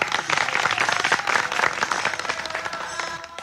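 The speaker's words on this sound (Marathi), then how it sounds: "एकदा जोरदार टाळ्या झाल्या पाहिजे." A crowd at the Wari pilgrimage bursts into vigorous, continuous clapping, many hands at once, loud at first and easing slightly toward the end, with no talking over it.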